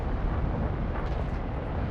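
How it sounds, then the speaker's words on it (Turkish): A jet aircraft roars in War Thunder, a steady, loud, broad rushing drone that holds evenly throughout with no talk over it. "Uçak geliyormuş."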